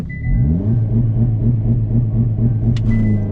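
A car held at about 3,000 RPM for an N-gear launch, the engine droning steady and loud with rising harmonics, then a brief sharp chirp of wheel spin near the end; no talking.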